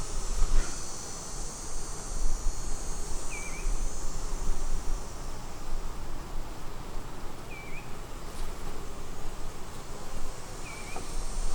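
Honey bees of a Crynoc colony hum in a steady, dense drone during a hive inspection, a continuous buzz filling the whole stretch with a few faint higher chirps over it and no talk.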